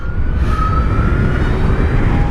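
A 2020 Zero SRF electric motorcycle accelerates on a gravelly road in eco mode, giving a steady loud rush of wind and road noise with a faint rising electric whine throughout.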